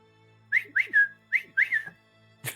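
A person whistles a short tune of five or six clear, sliding notes, fairly close and alone against a quiet background, ending with a brief noise.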